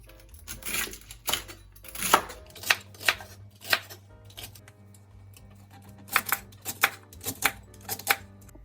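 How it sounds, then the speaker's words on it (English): Celery and other green juice ingredients are chopped on a cutting board with a knife, giving a series of sharp, close knocks in uneven bursts, some quick clusters and some pauses between strokes. "I'm just going to go ahead and chop these up really quick for you"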